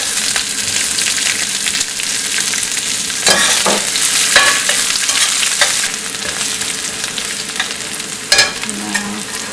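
Curry leaves and chopped onion fry in hot oil in a pan for masala dosa filling, a steady close sizzle with scraping stirs breaking through it several times.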